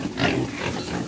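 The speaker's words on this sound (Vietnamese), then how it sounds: "Bây giờ mình cho heo ăn rồi con ơi." Pigs on a Vietnamese farm at feeding time give a short burst of grunting and snuffling squeals, close and moderately loud, lasting about a second.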